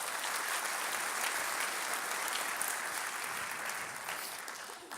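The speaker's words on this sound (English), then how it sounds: "Let's give them a big round of applause." An audience at a Long Beach business event applauds Cal State Long Beach partners: a broad, even roar of many hands clapping, held steady and full for several seconds before tapering slightly at the end.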